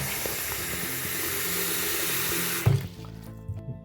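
Tap water pours steadily into a freshly cleaned bathroom sink, a loud even rushing hiss that cuts off abruptly near the end, leaving a few faint drips and clunks.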